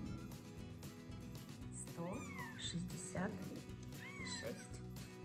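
Newborn Savannah kittens mew in a series of short, high, rising cries, several overlapping at close range, while someone talks softly over them throughout.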